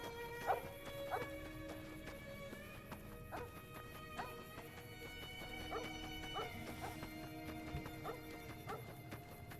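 Barking of wild dogs or coyotes in the Fallout: New Vegas video game on very hard difficulty: repeated short barks at irregular intervals, moderately near, over a steady game ambience with tonal background music.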